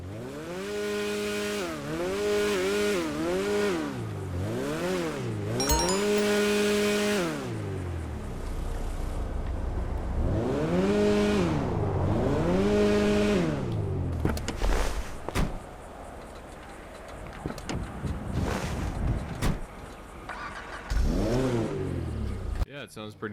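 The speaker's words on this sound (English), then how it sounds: "we'll do a quick exhaust clip here for you guys" A stock BF Weevil car engine in GTA 5 Online revs up and down in repeated bursts, rising and falling pitch, then idles and blips irregularly, loud and close.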